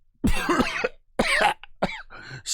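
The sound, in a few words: voice imitating coughing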